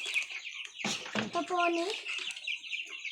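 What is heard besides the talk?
broiler chickens clucking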